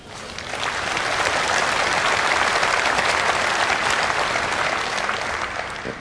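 Conference hall audience at a Conservative Party Conference breaking into loud, sustained applause, swelling quickly and holding steady for several seconds before easing, with no speech over it.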